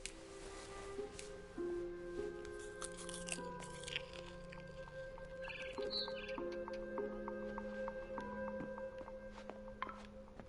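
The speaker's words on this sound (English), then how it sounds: "Then I heard chirping outside my window. It was a barn swallow going back to her nest." Barn swallow chirps in the video game What Remains of Edith Finch, scattered short tweets over a steady layered game soundscape with sustained tones and faint crunching, moderately quiet throughout.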